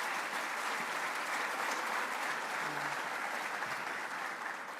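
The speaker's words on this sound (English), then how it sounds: "Let's give him another round of applause." A crowd applauds at a governor's economic development event at a community college, a steady, even wash of clapping that holds at the same level before easing slightly at the end.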